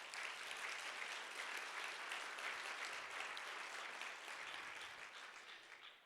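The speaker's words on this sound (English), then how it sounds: "Please give yourselves all one big round of applause." Steady, sustained applause from a conference audience at an attorney general's opening remarks, a broad even wash of clapping that fades slightly toward the end, with no talking over it.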